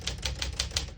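A 1958 Smith-Corona Silent-Super portable typewriter types in a quick, even run of five crisp key strikes, close and clear with no talking.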